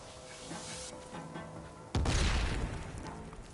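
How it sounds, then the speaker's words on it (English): A sudden loud blast or shot in the Horizon Forbidden West video game cuts through a softer background of game sound, its booming impact ringing out and slowly fading over the following second. "Who is shooting at me?"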